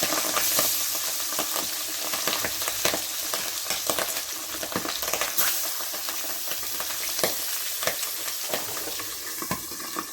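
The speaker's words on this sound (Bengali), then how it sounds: "এরকমভাবে আস্তে আস্তে কড়াইতে ছেড়ে দেওয়া হচ্ছে মাছগুলোকে" Pabda fish sizzles and crackles steadily as the pieces are laid one by one into hot oil in a wok, a close, dense frying hiss with sharp pops throughout and no talk.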